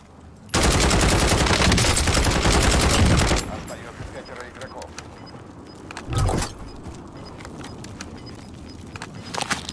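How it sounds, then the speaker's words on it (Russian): Automatic gunfire in Call of Duty Warzone: a loud sustained burst of rapid shots for about three seconds, then quieter scattered shots and one short burst over ambient game noise. "Стреляют во все."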